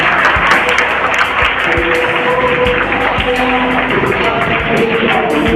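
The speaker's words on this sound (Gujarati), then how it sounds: "વિદ્યાર્થીને સન્માનિત કરવા જઈ રહ્યા છીએ ત્યારે તાળીઓ બંધ ના રહેવી જોઈએ" Sustained applause from an audience at a school annual function honouring students, steady clapping throughout at close range without talk.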